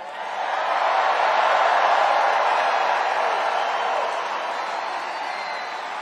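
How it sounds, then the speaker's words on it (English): A large crowd at a Trump political rally in Charlotte roars in a broad, steady wash of cheering and shouting that swells and holds, then eases slightly, sounding distant and reverberant. "Like this crowd. Look at this crowd."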